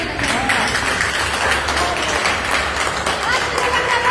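An audience at a Hindi poetry recital bursts into sustained applause, a dense continuous wash of clapping with crowd noise that stays loud and steady throughout.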